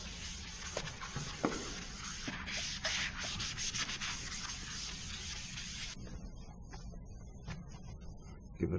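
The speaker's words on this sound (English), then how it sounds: "Give it a good wipe off after the Clorox and bleach, and then the scrub pad." A scrub pad rubs and wipes a window ledge in brisk back-and-forth strokes after a Clorox bleach clean. The scratchy friction stays close and steady before it softens and thins toward the end.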